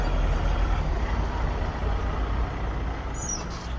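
Low, steady rumble of a bus in a cartoon, an idling or rolling engine hum that fills the scene without pause, fairly loud and alone.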